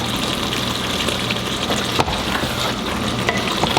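Shrimp is stirred into a bubbling okra and garden egg stew, with a continuous close sizzle and wet simmering and a few spoon scrapes against the pot, with no speech.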